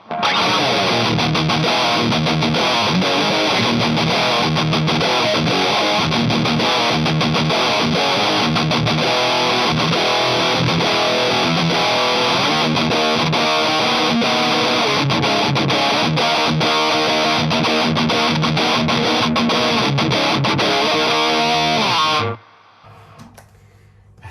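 A loud, heavily distorted electric guitar played through a Boss Metal Zone distortion pedal plays a continuous riff with a metal distortion tone, then stops abruptly near the end.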